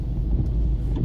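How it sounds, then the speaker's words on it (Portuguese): Dense low rumble of road traffic, a steady wash of car engines with no clear pauses, heard alone. "Estamos bem de manhãzinha, trânsito já pesado aqui em São Paulo"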